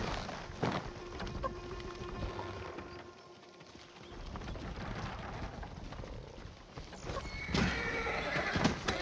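Horses whinny and snort in Ghost of Tsushima while hooves clip-clop over rough ground, with a sharp neigh near the end, loud and close amid outdoor ambience.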